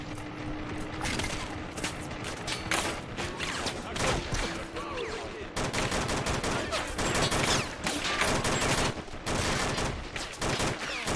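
Rapid, dense automatic cannon fire from a Shilka anti-aircraft gun pounding a building in the war strategy game Men of War: Assault Squad, a loud continuous volley of bursts with clattering impacts lasting throughout.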